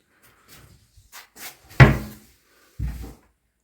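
Kitchen cupboard doors and drawers opening and closing in a newly furnished kitchen: a few soft knocks, then one sharp close and another solid thump, spaced apart in a quiet room.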